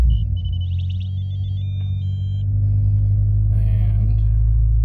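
A car engine starts and settles into a steady, loud low rumble, with a series of electronic beeps and chimes sounding over it at the start.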